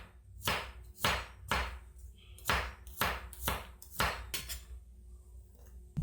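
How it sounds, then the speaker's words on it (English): A knife roughly chops three good-sized garlic cloves on a board: about ten sharp thuds in an uneven rhythm, close and fairly quiet, then a pause with no talking. "So I'll just give 3 good sized garlic cloves, just a rough chop."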